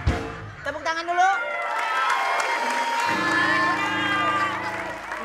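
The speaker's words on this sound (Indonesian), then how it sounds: "Tepuk tangan dulu." On a television variety show, a studio audience cheers and claps with whoops and excited shouting, mixed with loud speech and background music that swells midway.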